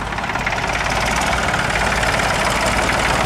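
A 1960s Dexter tractor with its original 3-cylinder Perkins diesel engine idles in a show arena, giving a steady, rough, knocking rumble that runs close and unbroken, with no talk.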